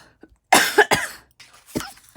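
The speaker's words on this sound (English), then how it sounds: "Every time I start videoing, I get a cough." Two or three sharp, close coughs in quick succession, followed by a softer throat-clearing cough after a brief pause.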